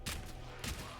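Gunfire in a first-person shooter video game cracks out in two quick bursts of close, sharp shots separated by a short lull.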